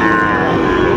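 A Sahiwal calf moos in one loud, sustained low call at a busy cattle market, the tone filling the whole moment up close.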